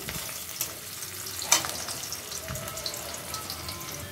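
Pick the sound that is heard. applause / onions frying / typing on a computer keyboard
onions frying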